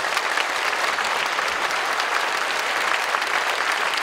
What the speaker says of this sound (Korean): 우리 후손들을 위해서 박수 한번 해주시고